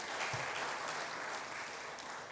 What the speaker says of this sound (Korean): 우리 한번 우리 감사 격려의 박수 한번 드립시다